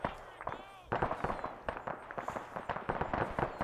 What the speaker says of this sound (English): Now, I'm still hearing some exchange of fire